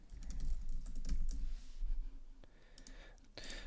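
Typing a name on a computer keyboard, a quick flurry of light keystroke clicks, a pause, then a few more taps, close and soft over a low room hum.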